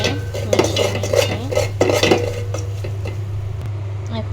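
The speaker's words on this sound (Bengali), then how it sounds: "সব কিছু আমি ভালো করে মিশিয়ে নিয়েছি।" Spices being stirred in a metal pot for khichuri, a spoon scraping and clanking against the pot in quick irregular strokes over a low steady hum, then settling to a quieter simmer.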